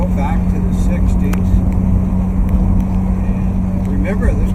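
A 1963 Jaguar E-Type 3.8 roadster engine drones steadily through a downshift, a close, constant low hum with faint clicks, and someone speaks over it.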